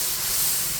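Water poured into a hot pan of frying onions and spices with turmeric and cumin sets off a steady, close hissing sizzle that fills the whole brief moment without pause.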